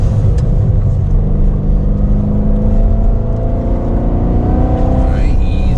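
A Chevrolet Corvette C7 Z06 accelerates through an autocross slalom, its loud, steady engine roar and rumble sustained and close throughout, with rising tire noise near the end.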